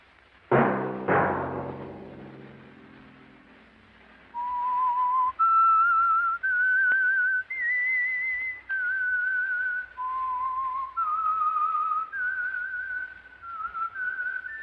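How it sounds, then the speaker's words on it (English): The eerie whistled theme of the old radio mystery program The Whistler begins after two ringing chime-like notes, then a lone wavering melody rises and falls in long sustained phrases, clear and close. "Let that whistle be your signal for the Signal Oil program, The Whistler"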